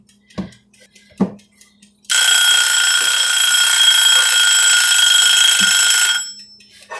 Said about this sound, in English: My timer likes to alert me a little bit before the time is actually up